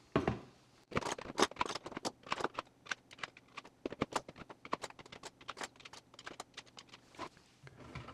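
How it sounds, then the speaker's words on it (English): Metal T-handle hex wrenches are slotted back into a 3D printed plastic rack, a quiet series of sharp clicks and clatters in irregular bursts, close by and with no talking. "let's put the wrenches back in and see how everything looks"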